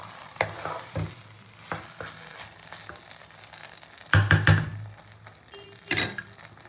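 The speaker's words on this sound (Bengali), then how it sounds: "আমি এবার পোলাওটাকে একটু নাড়িয়ে চাড়িয়ে দেবো।" Pulao rice stirred in a pot as its water cooks down: scattered scrapes and thuds of a spoon against the pot, with a cluster of louder knocks midway, over a soft simmering hiss.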